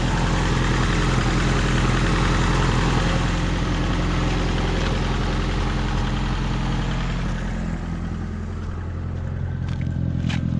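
A Fiat Uno with a 1.0-litre engine idles evenly, a steady low hum with a regular throb heard up close, continuing without revving.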